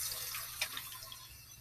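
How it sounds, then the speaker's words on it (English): A sink faucet runs steadily to rinse soap bubbles from a sink, a soft continuous hiss of flowing water with small splashes, fairly quiet and alone. "Then you will turn on the water once again, and you will rinse out all of the bubbles."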